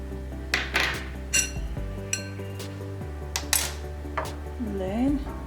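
Yogurt scooped into a smoothie container for an orange and yogurt smoothie, heard as a handful of bright clinks and taps of a spoon against the container, spaced irregularly over a steady low hum.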